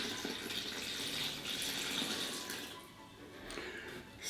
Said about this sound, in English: Next we are going to put salt and water in.